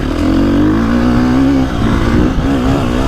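A 2025 KTM 350XCF four-stroke dirt bike revs hard on a rough trail, a loud buzzing engine note that climbs, dips briefly, then pulls again, close to the rider and without speech.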